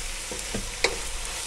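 Spinach cooking for creamed spinach with mushrooms, stirred in a pot with a spoon scraping the bottom, soft sizzling under a few distinct scrapes and one sharp clink near the middle.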